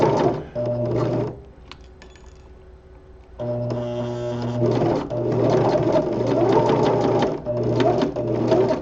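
Sewing machine stitching a seam in spandex glove fabric at a fingertip, running in loud bursts with a short pause partway through, then continuing in steady, closely repeated runs.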